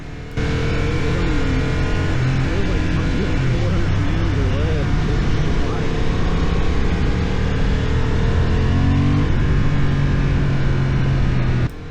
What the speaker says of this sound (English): I absolutely love the engine that is in this motorcycle